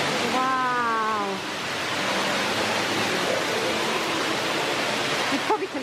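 Steady rushing water flows through the Dan yr Ogof showcaves in Wales, a loud continuous roar like a stream or small waterfall, with a brief voice at the start and a few faint voices near the end.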